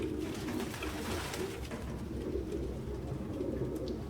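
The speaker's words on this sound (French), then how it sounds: "Aucun humain ne pourrait vivre avec autant de pigeons." Pigeons coo in Detroit: Become Human, a dense overlapping chorus of soft, low, throaty calls that continues steadily throughout, fairly close.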